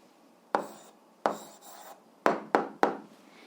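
Pen or marker strokes as an algebra answer is written by hand, five short scratchy bursts with quiet gaps between, close and fairly faint.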